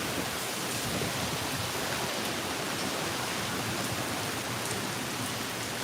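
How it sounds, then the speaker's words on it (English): Hurricane Ian wind gust at Disney World, a loud, continuous broadband roar of wind with rain-like hiss filling the whole clip, steady and close with no talking. "So yeah, nice little wind gust there."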